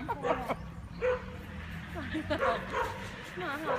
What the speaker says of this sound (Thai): หมายังเห่าอ่ะหมา